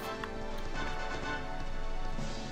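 Horse hooves galloping in Dragon Quest 11, a steady rhythmic clip-clop running continuously under a bed of game music, fairly close and moderately loud.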